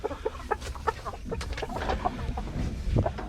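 Chickens cluck in a coop, with short, irregular clucks and squawks close by at moderate loudness and no talk over them.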